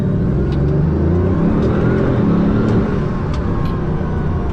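A Bugatti Veyron pulls away in first gear, its engine a loud, steady low rumble with a few faint clicks over it, heard close from inside the car.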